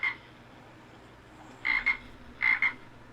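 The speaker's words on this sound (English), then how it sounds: "The frogs are getting ready to come out." Frogs croaking in the afternoon, three separate bursts of short raspy calls spaced a second or so apart, moderately near, with no talk over them.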